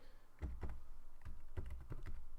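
Light typing on a computer keyboard: a few quick clusters of soft, close clicks with brief pauses in a quiet room.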